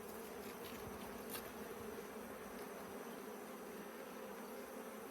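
Africanized honey bees at a hive make a dense, continuous buzzing drone, steady and close throughout with no talking.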